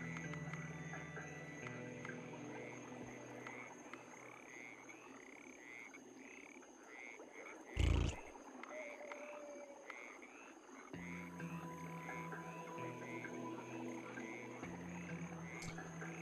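Frogs croak in the video game DemonCrawl in a repeating series of quiet, regular calls over a looping game backdrop. A sharp thud breaks in about halfway through, and the croaking then carries on.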